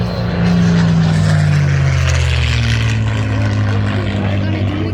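A World War II propeller plane roars past low at an EAA air show, a loud steady engine drone with a falling pitch as it passes, while people talk underneath.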